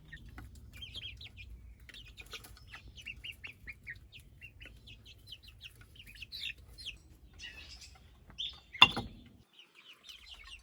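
Several hens in a backyard coop give soft, scattered clucks and chirpy calls over a low steady background hum, with one brief sharp knock or clatter near the end.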